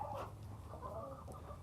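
Chickens cluck softly around a chicken coop under repair, with brief, faint calls scattered over a low, steady background hum.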